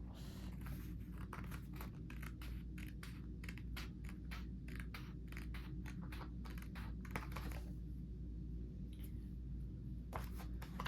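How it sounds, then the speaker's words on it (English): Rapid run of small crisp snips and clicks as scissors trim excess paper off a journal page, quiet and close, with a brief pause before a few final cuts, no talk. "I'm going to trim some of this excess off"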